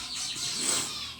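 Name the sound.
birds chirping outdoors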